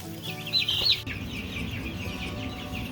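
Young chicks in a brooder give a short burst of high, bright peeping early on. Softer, steady chirping and a low background hum continue after it.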